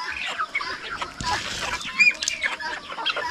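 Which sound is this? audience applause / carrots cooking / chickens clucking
chickens clucking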